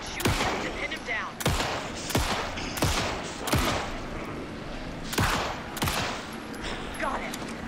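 Repeated gunshots ring out in a tense firefight in the Deerfest section of Alan Wake 2, heavy blasts spaced a second or so apart over a steady rumbling backdrop, loud and close.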